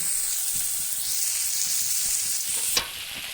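Tamarind-based dried fish curry liquid hits a hot pan of sautéed ingredients, giving a steady, close hissing sizzle throughout, with one sharp metallic clank near the end.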